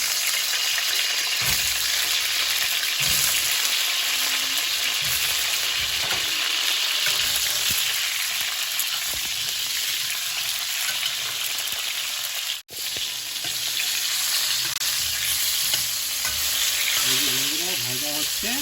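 Eggplant pieces fry in oil with a loud, dense, continuous sizzle and the occasional scrape of stirring. The sound breaks off briefly partway through, then resumes just as strongly.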